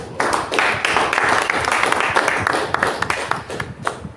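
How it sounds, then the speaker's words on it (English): Audience applause at an inauguration convocation ceremony for a structural engineering academy, a dense, steady wash of many hands clapping that holds loud and even for about four seconds. "Give yourself another round of applause."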